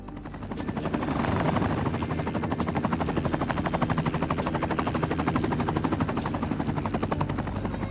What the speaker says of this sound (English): so let's stay with this helicopter